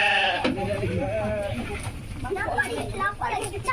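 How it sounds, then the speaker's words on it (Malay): Goats on a Malaysian farm bleating repeatedly, several overlapping wavering calls at close range, with people talking throughout and faint farmyard background noise. "Kambing nak musnah."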